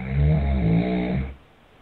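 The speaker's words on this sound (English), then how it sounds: "Kept snoring." A man snores loudly nearby, one long rasping inhaled snore that fades into quiet at the end.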